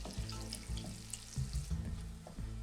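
Whole spices and green chillies frying in oil in a pan, a close steady sizzle with soft bursts and stirring scrapes, heard without any talking.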